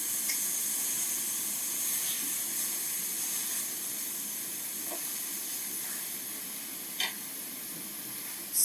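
Ground chicken pressed into a skillet as one big patty, sizzling with a steady soft hiss and occasional faint pops and clinks, fairly quiet and constant.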